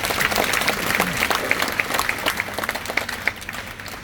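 An audience at a business seminar applauds, a moderate crowd clapping with scattered distinct hand claps standing out, gradually thinning toward the end, heard at a moderate distance with no talk.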